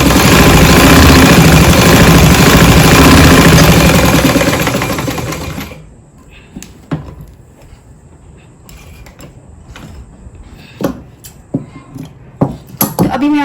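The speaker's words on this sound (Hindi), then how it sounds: "फिर हम इस मशीन को जो स्टार्टर है उसको चलाना शुरू करते हैं।" A sewing machine runs fast and loud for about six seconds, stitching fabric with a dense mechanical whir. It then stops, leaving scattered light clicks and handling noises.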